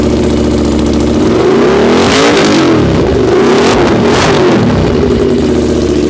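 An Aprilia RS 457 motorcycle with a full-system aftermarket exhaust revs hard twice, the exhaust roaring up and dropping back, close by with a constant throaty rumble between blips.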